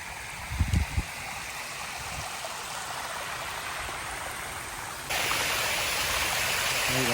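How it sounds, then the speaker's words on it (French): Waterfall in Cuba roaring as a steady broadband rush that stays constant throughout, briefly mixed with a few low thumps near the start and growing slightly louder and closer toward the end. "Tu vois cette cascade-là?"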